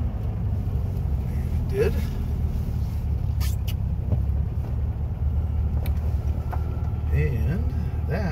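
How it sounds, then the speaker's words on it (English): A 1964 Volkswagen Beetle with a 40 horsepower engine climbs a hill, its steady low engine drone running throughout from inside the car, with brief talk near the end. "we're going to go up a hill. See if 40 horsepower can get us up a hill."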